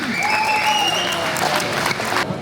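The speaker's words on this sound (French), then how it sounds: "On les applaudit bien fort" Spectators applaud after a wrestling quarter-final bout, a loud burst of crowd clapping with tonal sounds gliding over it, sustained briefly then cutting off sharply at the end.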